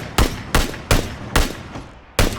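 Loud gunfire from players shooting each other in the PUBG battle royale video game, five sharp separate shots spaced at uneven intervals with no talk.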